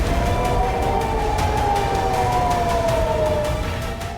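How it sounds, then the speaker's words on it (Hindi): A wailing air-raid siren in Tel Aviv during an Iran–Israel conflict sweeps steadily in pitch over a continuous background roar, sounding moderately distant and sustained throughout, with no voices. "लगातार सायरन बज रहे हैं"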